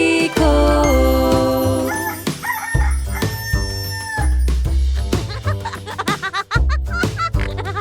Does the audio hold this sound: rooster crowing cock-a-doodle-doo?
yes